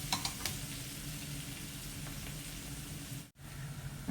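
Onions frying in oil, a quiet continuous sizzle with faint crackles, steady throughout apart from a brief dropout near the end, with no talking.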